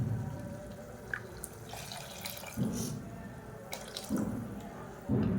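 Water runs and splashes steadily into a pan of tomato chutney nearby, with a few clinks and sloshes, no talking.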